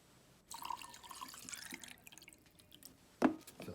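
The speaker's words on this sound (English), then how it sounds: "I'm going to add alcohol to this one" Alcohol poured from a container into potassium dichromate solution makes a liquid splashing and trickling sound for about two seconds, followed by a brief, sharper drip or clink near the end.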